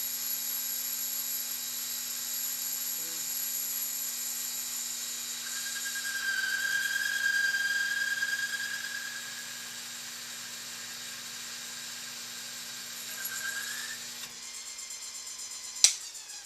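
An indexable carbide milling holder, not yet resharpened, cuts metal in a steady high-pitched machining whine with a motor hum underneath. A brief louder squeal rises midway, and a sharp click near the end cuts the sound off.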